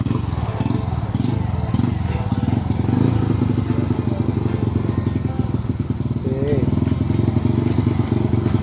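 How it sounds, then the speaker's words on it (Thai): Honda Dream motorcycle fitted with a CB150 engine, freshly assembled, running with a steady close, loud engine chug and exhaust throb throughout, with people talking over it. "สตาร์ทเครื่องครั้งแรกนะ ติดง่ายเหมือนเดิม"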